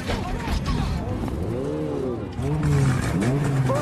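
Cars in a film street race roar through rising and falling engine revs, loud and continuous, blended with other movie soundtrack noise.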